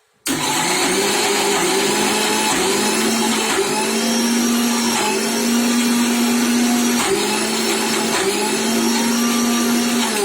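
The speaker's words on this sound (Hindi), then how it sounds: "उसे ऐसे बार बार हिला के ग्राइंड करेंगे तो वो अच्छे से ग्राइंड होगा" A blender grinds a Lebanese hummus mixture with a loud, steady motor whine that lasts throughout, its pitch shifting slightly as the blend is stopped and restarted, close to the listener and alone, with no voices.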